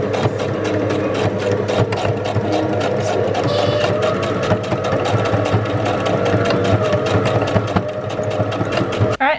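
A sewing machine back stitches elastic with a fast, steady mechanical chatter close up. Its rapid needle rhythm runs continuously, with faint talk underneath.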